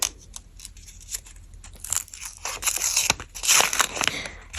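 A green paper gift packet with a heart on it is torn open by hand, a run of crisp ripping and crinkling bursts up close that grow denser and louder toward the end, with no voices over it.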